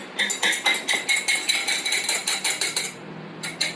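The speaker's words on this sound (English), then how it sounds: "now I'm going to beat the egg white into stiff peaks" A single egg white is whisked by hand into stiff peaks, a wire whisk clattering against the bowl in quick, even strokes, about four per second, close and bright, pausing briefly near the end.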